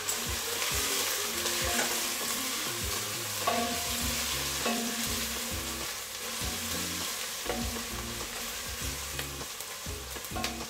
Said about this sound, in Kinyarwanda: Ibitunguru tugiye kubiteka iminota 2